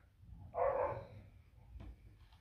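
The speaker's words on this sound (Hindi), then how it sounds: "उसको देखते गुर्रा रहा है, गुर्रा रहा है, गुस्सा कर रहा है।" A dog growls once in a brief, low rumbling burst, close by and moderately quiet, followed by a fainter second rumble.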